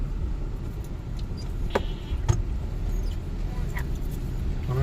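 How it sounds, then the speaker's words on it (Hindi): Congested city road traffic in Multan, a steady rumble of idling and creeping vehicles heard from inside a car, with a few sharp knocks and brief squeaks. "कितनी बड़ी सड़कें बनाई थी फिर भी ट्रैफिक इतनी जाम हो जाता"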